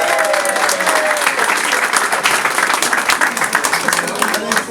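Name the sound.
applause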